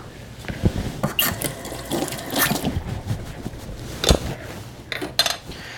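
Kitchen tap water runs and splashes as an item dropped on the floor is rinsed off during live cake decorating, with clattering and bursts of louder spray over a steady flow, close by.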